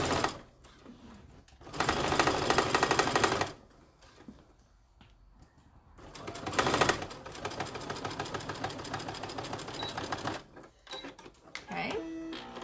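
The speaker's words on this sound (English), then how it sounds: "So you're going to sew, make sure you back stitch at the beginning and end." A sewing machine stitches a zipper pouch seam in several bursts of rapid mechanical whirring, starting and stopping for back stitches, with a person talking in the gaps between runs.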